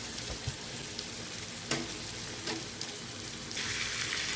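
Beef kondattam frying in a pan with lemon juice and coriander leaves, stirred with a steady hiss and crackle, a few scraping strokes, and a brighter surge of sizzle near the end.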